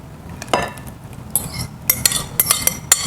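Buttermilk pancake batter is stirred with a rubber spatula in a bowl, producing several close, crisp clinks and knocks against the bowl, sparse at first and then a quicker cluster of taps.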